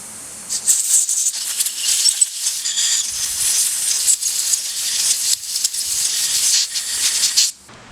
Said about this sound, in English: Be kind of careful with the compressed air.